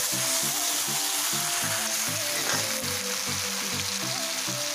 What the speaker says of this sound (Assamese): মাংসটো এতিয়া মই লৰাই দিছোঁ